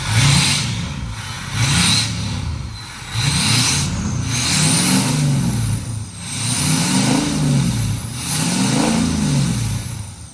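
A Ford F350 6.0 Powerstroke diesel pickup revs repeatedly through its exhaust, rising and falling in several loud surges with brief dips between, close by and with no talking.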